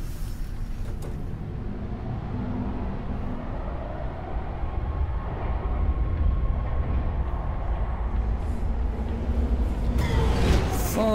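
A subway train car in the game Resident Evil 3 rumbles steadily along, a loud low rolling drone with rattling that builds slightly, and clanking near the end, no voices.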